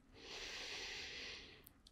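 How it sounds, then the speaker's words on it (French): A single long, slow inhalation during a calm yin yoga session, a soft airy breath drawn steadily through the nose for nearly two seconds, close and quiet with nothing else heard. "Longue inspire."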